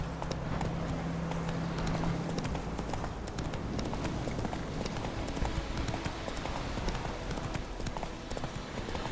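A horse gallops steadily in The Witcher 3, with fast, continuous hoofbeats close by over a dense bed of game ambience and no speech.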